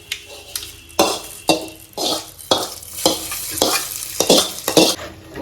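Dried red chillies sizzle in hot tempering oil with popped mustard seeds while a spoon stirs the pan in repeated scraping strokes, for a fenugreek leaf kootu.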